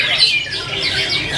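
White-rumped shama (murai batu) singing at a bird contest in Vietnam: bright, continuous chirping and warbling phrases over a busy crowd-like background, with no clear gaps across the short stretch.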